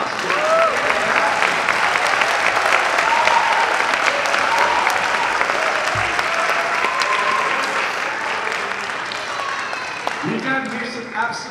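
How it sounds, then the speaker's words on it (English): Loud, sustained audience applause at a jazz festival, a thick continuous roar of clapping with cheers that tapers slightly near the end, where a voice begins to speak. "Can we give a round of applause?"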